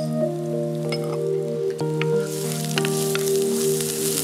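Chopped onion and garlic sizzle steadily in about two tablespoons of olive oil, a continuous close frying hiss with occasional pops and stirring clicks, alone without voices.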